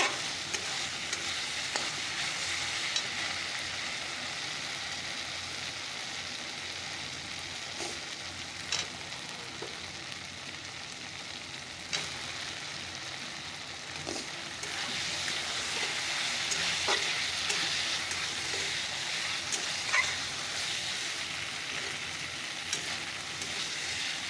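Potato pieces fry and sizzle in cooked-down spice paste and oil for a Bengali fish-curry style dish, a steady crackling hiss with intermittent stirring scrapes throughout.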